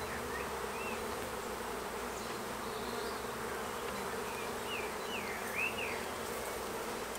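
Honeybees buzz in a full-sized hive, a steady, soft, close droning hum with no voices over it.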